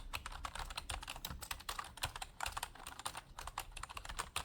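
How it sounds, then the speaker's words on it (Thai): Steady, rapid typing on a Raiku R905 87-key wireless keyboard, keys clacking in a dense, uneven rhythm, fairly soft and close with no voices. "เดี๋ยวเราไปลองฟังเสียงปุ่มกดกันดีกว่าครับ"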